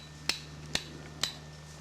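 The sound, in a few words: hammering stakes of a tripwire mine into ground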